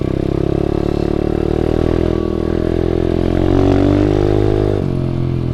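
An SSR125 pit bike runs at a steady, buzzy engine drone close by, with a slight rise in pitch midway and a small dip near the end, and a light rattling clatter underneath.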